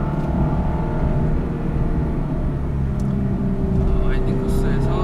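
A Lexus LC500h hybrid drives carefully on a cold winding course, its engine and road noise forming a steady, close, continuous low rumble throughout, with no clear rise or fall.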